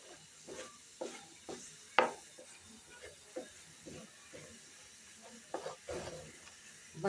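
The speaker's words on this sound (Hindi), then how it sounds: "उस वक्त तक इसकी भुनाई करते रहेंगे जब तक ये तला ना छोड़ दे।" A thick barfi sweet mixture being roasted and stirred in a pan on a stove, with soft scraping stirs and a faint sizzle recurring irregularly, one sharper scrape standing out, close and fairly quiet.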